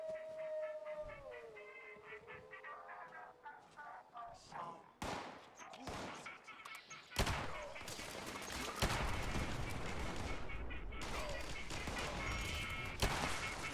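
Gunfire rattles in the Fallout 76 video game: dense, sustained bursts of shots after quieter tonal game sounds and scattered effects, building to continuous volleys in the second half.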